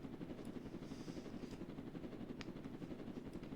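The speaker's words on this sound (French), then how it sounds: "Là, je vois un hélicoptère." A blue helicopter in a video game gives off a constant low rotor thrum, steady and moderately loud, with small clicks and game noises scattered over it.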